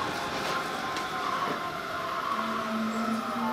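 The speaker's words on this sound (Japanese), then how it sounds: "さあ電車来ましたよ。" A Fukuoka City Subway Nanakuma Line train pulling into an underground station, a steady rumbling roar with rising motor whine and a squealing brake tone near the end, close and continuous.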